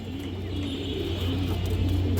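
Pigeons coo in a low, steady murmur while a bird is held in hand for display, with faint steady background hum throughout.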